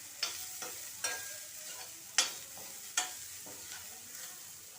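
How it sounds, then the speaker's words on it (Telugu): Food sizzles in a frying pan as a spoon stirs it, with several distinct scraping strokes spaced about a second apart over a soft, steady sizzle. "ఇలా వేయించి"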